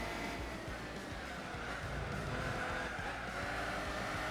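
A CVT-equipped car in Gran Turismo 4 on PS2 gives a steady, even engine hum that barely changes pitch, with faint tire and road noise running underneath throughout and no talking.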